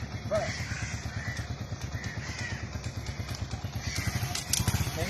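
A motorcycle engine putters in a rapid, steady rhythm under a faint, lively background, with crows cawing now and then and clattering noises near the end.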